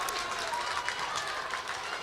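A big crowd at a grand final Australian football match roars and applauds continuously after a kick goes straight through, a dense, loud wash of cheering and clapping.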